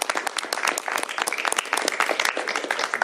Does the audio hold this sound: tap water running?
no